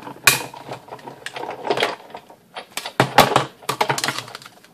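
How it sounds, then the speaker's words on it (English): A Big Shot die-cutting machine cranked by hand to cut brown card, giving close, irregular clicks and ratcheting knocks in uneven bursts with short quiet gaps. "So we will pull out the Big Shot. And we're going to cut the bigger one out of the brown."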